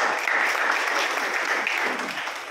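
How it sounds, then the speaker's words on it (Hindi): Audience at a BJP party meeting breaking into steady, dense clapping that holds for a couple of seconds and tapers slightly at the end. "अभी ताली बजाया सब लोग"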